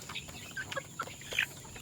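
A hen clucks in short, separate bursts near the listener, with a farmyard hush between the calls and no talk.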